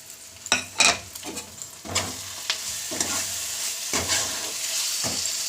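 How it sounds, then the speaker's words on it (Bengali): Tomato and green chilli paste stirred in a hot pan, several distinct scraping strokes of a spatula over a steady sizzle, with no voices. "পুরো পেস্টটা আমি দিয়ে দিলাম, দিয়ে ভালো করে নাড়াচাড়া করে নেব"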